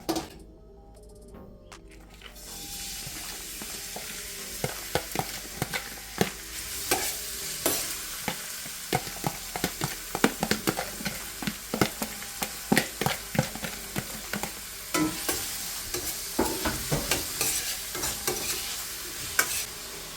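Onion, garlic and pimento peppers sauté in a pan over medium-high flame, a steady sizzle starting after a brief quiet moment, punctuated by frequent sharp scrapes and taps of a spoon stirring, close and clear with no talk.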